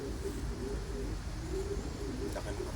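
Low, soft cooing of pigeons repeating over a steady background hum, fairly close and continuous.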